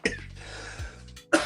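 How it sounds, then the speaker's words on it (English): A person coughs nearby, a sharp burst at the start followed by a rough, breathy exhale, with a second short cough at the end. "I was trying to let that be and see if I was going to cough naturally, and I did."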